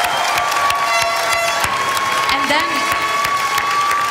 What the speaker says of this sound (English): please give them again a big round of applause